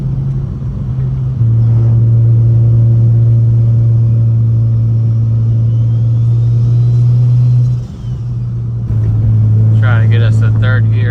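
Single-turbo BMW 335i with anti-lag and a manual gearbox pulling hard in third gear at about 26 psi, a loud steady engine drone that dips briefly and then resumes, with a voice speaking near the end.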